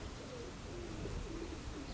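Quiet pigeon cooing in short repeated phrases, low and murmuring, over faint ambient noise.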